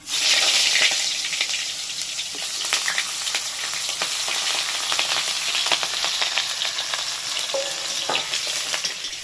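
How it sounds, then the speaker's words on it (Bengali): Eggplant pieces fry in hot oil with a loud, continuous close-up sizzle. Frequent crackles, spits and light stirring clicks run through all nine seconds without speech. "বেগুনগুলোকে প্রথমে ভেজে নেবো"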